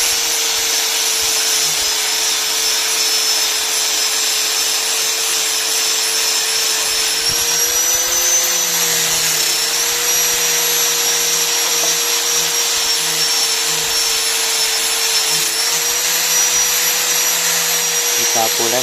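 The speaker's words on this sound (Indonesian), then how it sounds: "Kita poles sampai betul-betul warna yang ada warna hijaunya ini menjadi warna hitam semua." A power polisher works over an engine block, buffing the green finish until it turns black. It gives a steady, loud, continuous motor whine that holds at one pitch from start to end.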